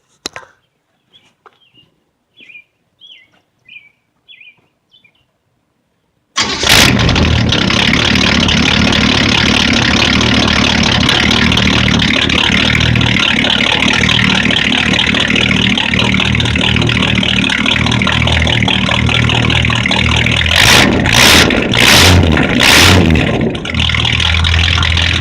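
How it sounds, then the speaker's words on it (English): Chevy C10 V8 engine on straight open dual exhaust bursting to life after quiet shuffling, then idling loud and rough with a choppy lope and several sharp revs near the end, close and raw. "There's what it sounds like with just open exhaust"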